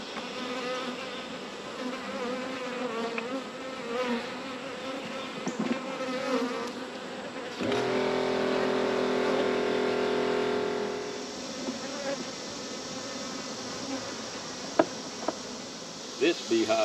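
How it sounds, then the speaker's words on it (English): Honeybees buzz steadily inside a light hive box during feeding and mite treatment, a dense droning hum that swells louder and fuller midway before settling back, with a few small knocks of handling near the end. "that one's very light, but it's full of bees"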